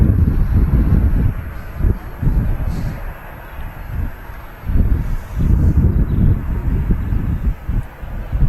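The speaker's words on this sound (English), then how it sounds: "the wind has definitely picked up here at Manchester" Gusty wind blows outdoors at Manchester Airport, buffeting the microphone in loud rumbling surges that rise and fall over several seconds, with no clear voices.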